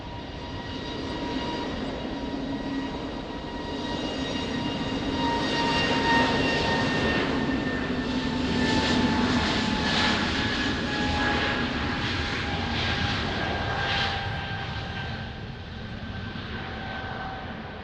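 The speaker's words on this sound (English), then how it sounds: "runway 20, cleared for takeoff" TAP Air Portugal airliner in Star Alliance livery taking off from Lisbon Airport in rain and wind, a loud, sustained jet engine roar that swells to a peak midway and then slowly eases, with no talk over it.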